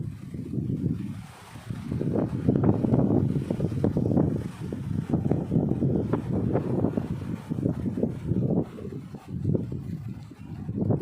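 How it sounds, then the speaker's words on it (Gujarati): Strong wind gusting against the microphone, a loud rumbling roar that swells and drops in waves, with no break between gusts. "મસ્ત વાતાવરણ જોરદાર પવન આવે"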